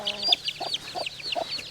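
A crested cream legbar hen clucks in a quick run of soft, pulsing calls, close by, with no other sound over it.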